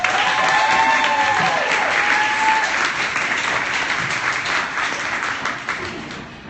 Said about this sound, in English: Please give a big round of applause for Michelle and Rick.